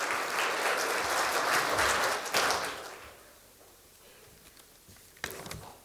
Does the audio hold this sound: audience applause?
yes